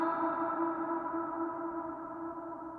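A sustained, washed-out reverse reverb swell made with Valhalla VintageVerb cranked high, dense tonal layers hanging steady and slowly fading over a few seconds, no voices.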